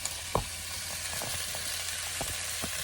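Chicken pieces sizzling in hot oil as they are added to a paella pan, a steady frying hiss with a few sharp pops and crackles scattered over a few seconds, close and fairly quiet.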